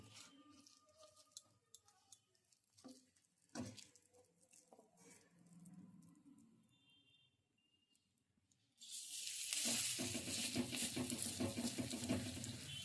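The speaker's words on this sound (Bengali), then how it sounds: "এই বড়া ভাজার জন্য খুব একটা তেলের দরকার হয় না কম তেলেই বড়াটা ভাজা যায়" Cauliflower stem fritters fry in a little oil in a kadai, starting with faint scattered pops and soft handling noises, then rising partway through into a loud, continuous close sizzle.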